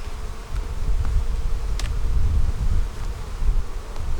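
Honey bees buzz steadily around hives in an outdoor bee yard, a loud, dense drone close to the microphone with a few faint ticks and knocks mixed in, no talking.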